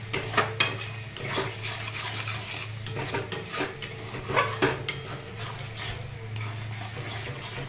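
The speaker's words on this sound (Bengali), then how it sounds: "মশলাটা ভালো করে আবার কষিয়ে নেব" Spice mix with coriander and cumin powder being stirred and fried in a pan: repeated metal utensil scrapes and clatters against the pot over a soft sizzle and a low steady hum.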